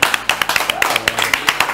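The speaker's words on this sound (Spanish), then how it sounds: "Vamos a darle un gran aplauso a Belén." Studio audience clapping for a guest on a Uruguayan TV cooking show, with crisp, close, rhythmic claps in quick succession.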